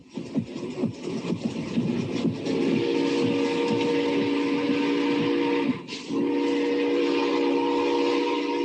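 A steam train rumbles and chugs close by, then sounds a loud, sustained steam whistle that holds for several seconds, breaks briefly, and resumes over the rolling noise of the rail cars.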